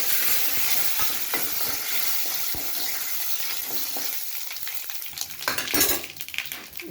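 Seeds tipped into hot oil in a pan and fried for a Telugu dal preparation, giving a steady close sizzle with scraping stirs and a clatter of utensil against the pan, no voices.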